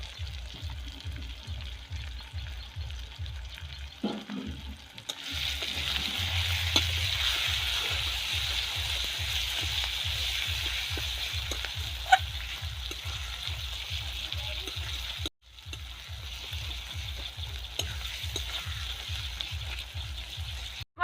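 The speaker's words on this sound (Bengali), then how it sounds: "মশলাটাকে কষাতে হবে, কারণ মশলাটা যত কষবো তত মাংসটা খেতে সুস্বাদু লাগবে।" Spice masala with chili powder frying for chicken kosha sizzles steadily in a pan, overlaid by a regular rhythmic ticking pulse and brief scraping stirs, with one short dropout near the end.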